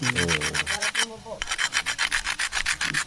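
Steady back-and-forth rasping of sandpaper rubbing over a surface, repeated rhythmic strokes with a brief pause in the middle, close and fairly loud.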